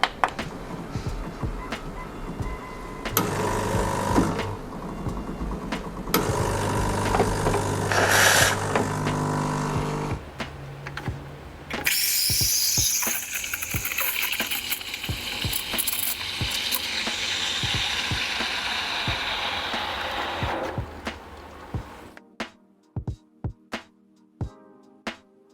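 Gemilai 3200C home espresso machine pulling a single programmed shot: mechanical clicks and ratcheting, then a loud pump hum and hiss for about ten seconds, ending in quieter drips and taps.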